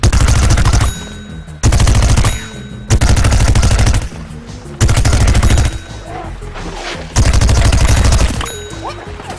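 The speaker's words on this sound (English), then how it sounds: "Here the ice pea shooter is using his rooted Gatling attack to thin out the zombie horde from a distance." Ice pea shooter's rooted Gatling attack in Plants vs. Zombies Garden Warfare: loud, rapid machine-gun-like bursts of fire, about five sustained volleys separated by short pauses, with faint ringing tones over the top.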